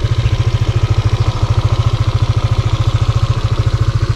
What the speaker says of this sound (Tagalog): So tingnan natin kung ano magiging top speed ngayon ng aking motor.